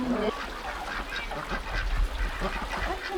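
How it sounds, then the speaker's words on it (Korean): Ducks by a mountain village stream quack and honk in a steady run of nearby calls, over a low rumbling background. "산마을 개울 품 안에 오리가 알을 낳았다"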